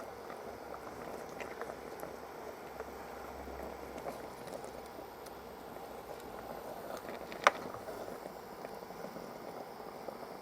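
Tomato sauce heats in a griddle pan with a low, steady bubbling simmer throughout, faint and continuous, broken once by a sharp single clink near the end.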